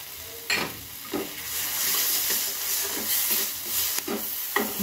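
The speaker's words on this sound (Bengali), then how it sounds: "পরিমাণ মতো হলুদ, একটু জল দিয়ে মশলাটাকে কষিয়ে নেব।" A spice paste with turmeric and a splash of water fries in a pan, giving a continuous close sizzle broken by several sharp stirring scrapes at irregular intervals, with no talking.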